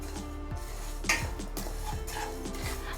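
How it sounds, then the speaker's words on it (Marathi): Black pepper and spices dry-roasting in a pan on a low flame, a utensil scraping and tapping the pan in a steady rhythm of short strokes over a low hum, close and without speech. "नऊ ते दहा काळी मिरी घेतलेली आहे एकदम लो फ्लेमवरती आपल्याला साधारण हे एक ते दीड मिनटासाठी छान असं भाजून घ्यायचं आहे"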